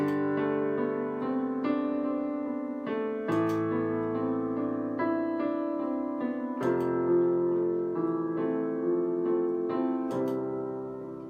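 Piano chords ring out one after another at a moderate pace, each sustained and overlapping the next, played alone with no talking.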